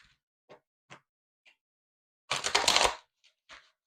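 Tarot cards being shuffled up close: a few light taps and flicks, then a quick dense riffle lasting under a second, followed by a couple more soft card sounds.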